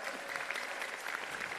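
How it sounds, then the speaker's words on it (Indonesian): Lively applause from an audience at a party leadership handover ceremony in Indonesia, dense continuous clapping filling the room at steady volume throughout. "Kita iringi dengan tepuk tangan yang meriah"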